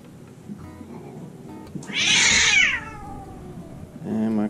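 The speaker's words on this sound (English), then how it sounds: "And my cats are fighting in the background." Pet cats fighting indoors let out a loud, harsh caterwauling yowl lasting about a second. Quieter rustling and scuffling come before it, and another short cry follows.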